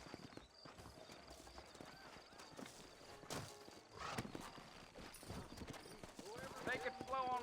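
Horse hooves clip-clop in the Red Dead Redemption video game as horses walk at a slow, uneven pace, fairly faint and mixed with a man's speech and a horse's whinny near the end.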